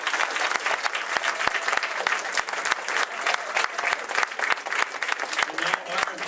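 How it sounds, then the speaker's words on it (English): Audience applause for the cast of a radio play performance, dense sustained clapping from a room of people, even and moderately loud across the whole stretch. "Let's have a round of applause for the cast."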